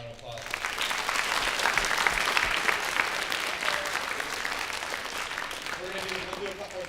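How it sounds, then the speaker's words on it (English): An audience at a high school senior transition panel breaks into a full round of applause, dense and loud, swelling quickly and holding steady for several seconds before easing slightly. "Give one more round of applause"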